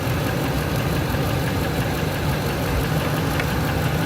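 A Ford F-150 engine with a sensor unplugged runs just off idle, a loud, steady, rough mechanical drone with a slight knocking texture, close up and without speech.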